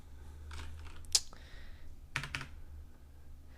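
Keys on a Razer BlackWidow Stealth mechanical keyboard are pressed close up, a few sharp separate clacks with quiet gaps between them over a low background hum.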